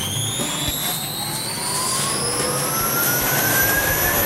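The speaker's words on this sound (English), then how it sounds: "Go ahead and turn on the vacuum." A 220V vacuum paired with an ASL RT3 concrete grinder runs with a loud, steady high-pitched whine and rising tones over a low rumble, heard close up with no talking.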